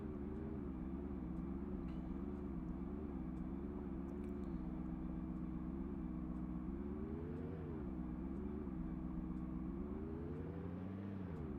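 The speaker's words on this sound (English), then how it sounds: "Speed's really good on this car" A car engine drives steadily through the zombie-survival game Project Zomboid, a continuous droning hum that rises and dips in pitch as the vehicle speeds along, with no talking.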